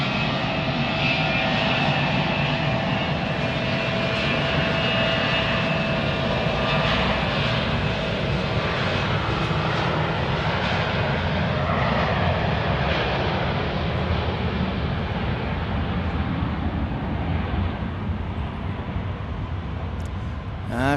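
An airplane takes off at Dallas Love Field during rainy thunderstorm weather, its engines roaring loud and steady for the full twenty seconds without a break.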